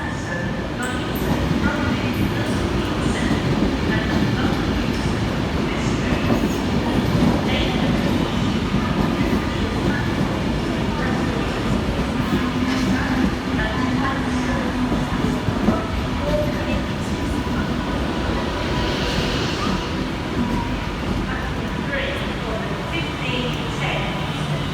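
An Avanti West Coast Class 390 electric train arrives at Crewe station, a steady loud rumble of rolling stock and rail noise filling the platform throughout, with faint background voices.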